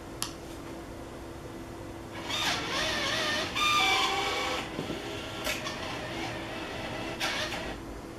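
A WBA bill acceptor on a WMS Williams Bluebird slot machine cycles with a quiet whirring motor sound and a few soft clicks, rising briefly in the middle over a steady low background hum.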